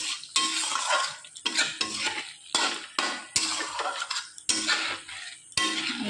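A spoon stirs and scrapes egg curry in a pan after garam masala powder is added, with repeated clinking, scraping strokes in uneven bursts, close and fairly loud with no talking.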